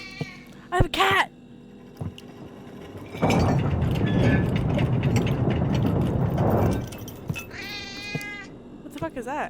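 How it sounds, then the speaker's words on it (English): A pet cat in a video game meows in a few short, distinct cries, alone at first and again near the end, with a stretch of loud gameplay noise and someone talking between them. "I have a cat!"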